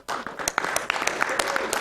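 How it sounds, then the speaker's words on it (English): A crowd at a live speedrunning charity marathon event applauds, with a dense, steady patter of claps and a few sharp whoops mixed in, fairly close throughout. "Another round of applause, guys."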